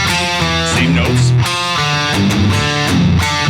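A heavy electric guitar riff played with distortion, with palm-muted notes on the fifth and fourth strings and open, accented notes between them. Loud, chugging rhythmic bursts ring out alone, with no talking.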